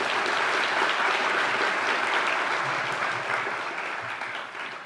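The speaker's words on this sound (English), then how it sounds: "Let's give them a round of applause." Sustained audience applause at a university retreat event, loud and steady throughout before tapering slightly toward the end, with no talking over it.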